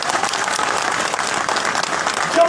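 Dense, sustained applause from an audience at a rally of power engineers and employees in Jammu and Kashmir, steady clapping filling the space without pause.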